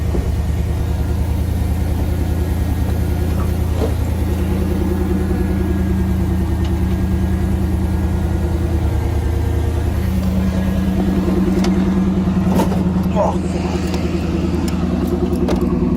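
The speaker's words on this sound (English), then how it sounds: "Alright, I'm gonna get one little burnout." An IROC Camaro with a five-speed sits idling at steady low rumble, its V8 engine revving a few times toward the end as it prepares for a burnout.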